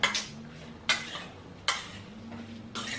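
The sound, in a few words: stirring food in a pot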